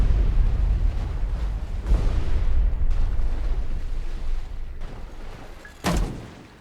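Depth charge explosions in a destroyer-versus-U-boat hunting game: loud, rumbling booms that roll on continuously, with a sharp burst near the end standing out above the dense low roar.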